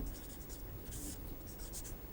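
An equation being written on a board during a chemistry lecture, heard as faint, repeated scratchy strokes in a quiet room, with no talking.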